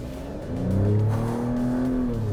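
An Alfa Romeo Stelvio Quadrifoglio with 520 horsepower accelerates hard in race mode on a track, its engine note swelling into a loud, close, steady roar with rising pitch.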